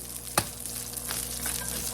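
Salmon frying in a pan with sauce: a steady soft sizzle with a sharp utensil tap early on and faint scraping, quiet and close, no talk.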